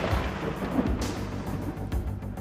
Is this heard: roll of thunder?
yes